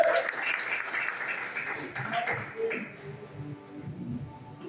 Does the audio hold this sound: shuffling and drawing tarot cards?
no